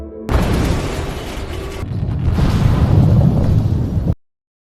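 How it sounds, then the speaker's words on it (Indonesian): A water storage tank bursting from a C4 bomb blast: a loud, sustained roaring boom lasting about four seconds, with a brief dip partway through before a rumbling surge, then cutting off abruptly. "tangki penampung air malah justru meledak"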